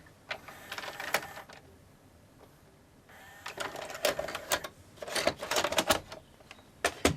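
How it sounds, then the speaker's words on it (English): A VHS video recorder's mechanism laces the tape, then keeps driving its motor, giving clicking, whirring mechanical bursts that are sparse at first and grow denser and louder toward the end, heard up close with no talking. "It's just getting to the laced position and then just continuing to try and drive the motor."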